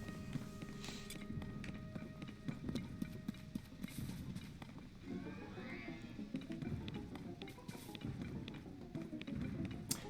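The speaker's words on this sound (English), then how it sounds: "there's a big horse, can you catch it?" A horse in Zelda: Tears of the Kingdom clip-clops along at a steady pace, its hooves beating clear and even over quiet game ambience, with a faint rising whoosh in the middle.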